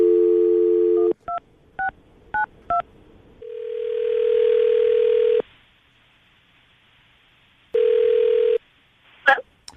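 Telephone tones while placing a call: a steady dial tone, then a quick series of short keypad beeps, followed by two long ringback tones separated by silence and a brief clatter at the end.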